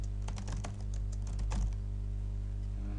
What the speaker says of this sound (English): we can type things in